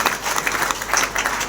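Brief burst of dense crowd clapping at a stage program in Palanpur, steady and fairly loud from start to finish.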